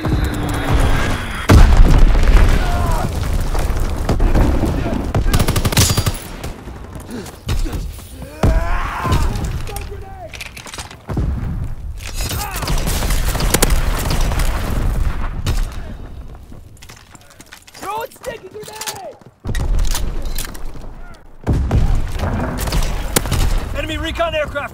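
Repeated loud bomb explosions in Call of Duty WW2 during the Attack of the Undead event: deep booms and crashing blasts come in waves, mixed with in-game shouted voices and gunfire.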